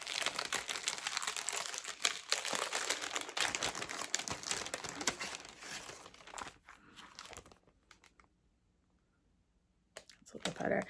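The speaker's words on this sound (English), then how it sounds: "Sorry for the crinkling." Packaging holding fabric and embroidery floss crinkles and rustles loudly up close as it is pulled open, continuing for several seconds before a short quiet gap and another burst.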